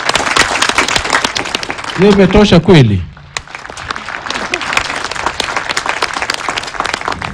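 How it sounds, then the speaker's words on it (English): A graduation ceremony audience claps for a justice in a large hall: loud, sustained applause with a voice over it, a brief sung or ululating cry in the middle, then a short drop before the clapping resumes. "can we clap again to Honorable Justice?"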